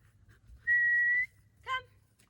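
A person whistles to call a dog named George, giving one long steady whistle followed by a short rising chirp, clear and close against quiet outdoor background.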